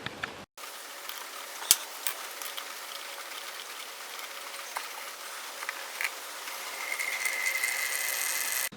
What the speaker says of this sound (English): we will take a 10 millimeter and loosen up the drain bolt on the bottom